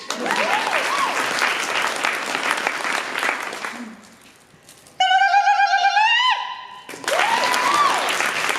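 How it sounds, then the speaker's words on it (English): A convention panel audience claps loudly and continuously to vote, then the clapping fades and a loud, warbling, ululating yell cuts through alone before another burst of crowd applause resumes. "So if you think number one had the most stylistic yell, go ahead and clap."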